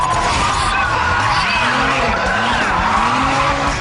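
Drift car tires skid and squeal in a racing video game, loud and continuous with wavering pitch sweeps over an engine drone, with no talking.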